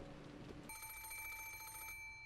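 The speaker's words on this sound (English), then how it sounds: "suddenly, the piercing sound of a phone rang through the room." An antique telephone rings in the video game Umineko, a quiet, rapid bell trill that starts abruptly after a low murmur of background music and carries on steadily for over a second.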